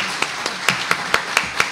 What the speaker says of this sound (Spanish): Démosles un aplauso